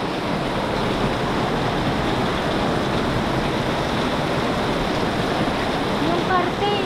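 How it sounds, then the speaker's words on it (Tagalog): Small hailstones and heavy precipitation fall on a road running with water like a river, making a steady, dense rushing roar that holds constant and loud throughout. "Nag-hailstorm."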